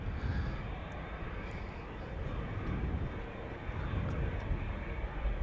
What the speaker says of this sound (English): Time for another widebody KLM flight 611. Destination Chicago O'Hare. Boeing 787-10 Dreamliner, the PHBKK.